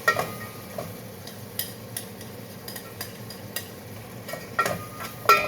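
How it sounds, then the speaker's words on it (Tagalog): Corn kernels being stirred and sautéed in a home pan, with soft scattered scrapes and light clinks of a utensil over a faint low sizzle, no voices. "Gisa-gisa lang yan guys. Gisa-gisa."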